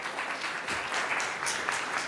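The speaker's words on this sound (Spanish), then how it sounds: "Recibimos con un cálido aplauso a Carlos Alberto Vélez Arreola." Audience at an optometry forum in Mexico gives a warm round of applause, dense steady clapping from a crowd lasting about two seconds with no speech over it.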